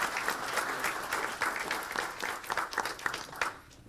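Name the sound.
applause at board meeting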